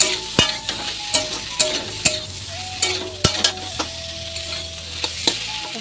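Potatoes frying in a pan for a Bengali vegetarian breakfast, with steady close sizzling and sharp clicks of a utensil scraping and stirring at irregular intervals.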